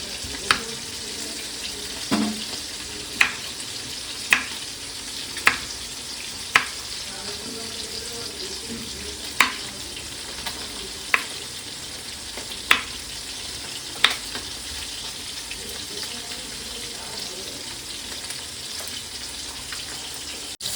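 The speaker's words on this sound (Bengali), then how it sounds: "তখন আমার মাছটা ভাজা হচ্ছে" Puti fish fries with a soft, steady sizzle in the background, interrupted by sharp knocks every second or two that fade out toward the end.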